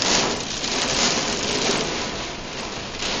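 Very heavy storm rain pounds down on a Houston freeway, a loud, dense, continuous roar of drops hitting the road and vehicle, steady throughout with no pauses and no voices.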